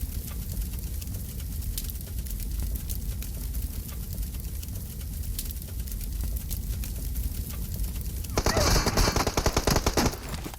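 Rapid automatic gunfire from PUBG Mobile in a ranked squad match, dense bursts of shots running steadily throughout, growing louder and harsher near the end.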